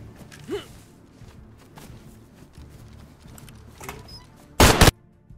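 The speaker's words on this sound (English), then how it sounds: "I just shot him point blank in the face" A single sharp, loud gunshot near the end in the video game DayZ, preceded by faint ambient rustling and soft movement sounds.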